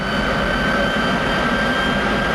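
Lockheed T-33 jet engine spooling up during a ground start, a loud, steady roar with a sustained high whine, running continuously with no voices.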